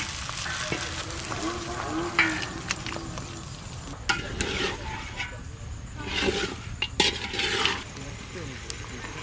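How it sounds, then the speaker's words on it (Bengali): Meat frying and being stirred in a pot, a moderate sizzle with scraping stirs and clinks, partly masked by background noise and indistinct voices. "এই যে আমার মাংসটা আমি হাঁড়িতে দিয়ে কষাবো ভালো করে"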